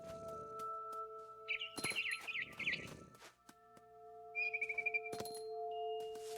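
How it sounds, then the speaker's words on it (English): A barn swallow chirps in the video game What Remains of Edith Finch, giving two quick trilling bursts of short tweets over a steady ambient hum, with a few soft clicks between. "Then I heard chirping outside my window. It was a barn swallow going back to her nest."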